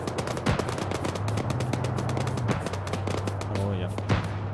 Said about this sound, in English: Oh, that sound like rockets.